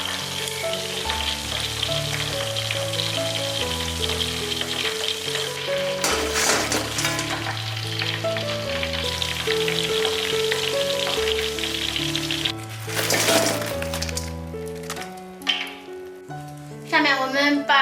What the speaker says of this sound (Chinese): 小火慢炸，把这鱼块炸至飘起，炸至金黄，